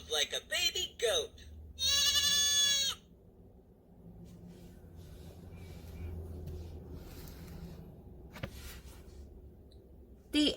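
A woman reading a children's farm-animal picture book imitates a baby goat, giving a few loud, quavering bleats up close, followed by a long, quieter stretch of low room sound.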